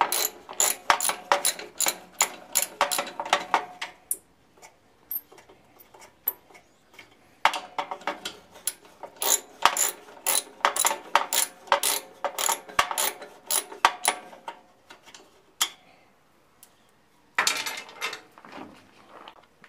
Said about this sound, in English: start removing these. There should be four bolts that hold the shroud on.